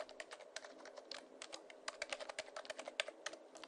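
Quick, continuous typing on a computer keyboard as a sign-up form is filled in, a close run of light clicking keystrokes, quiet and uneven in rhythm, with no voices.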